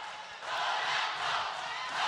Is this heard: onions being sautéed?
no